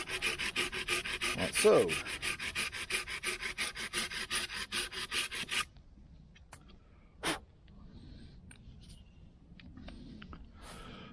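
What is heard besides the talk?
sawing to tidy a pruning cut on a tree branch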